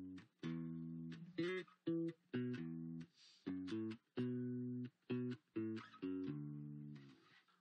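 Bass guitar playing the repeating riff from a song, a series of short, punchy plucked notes in a syncopated rhythm, close and clear with no talking.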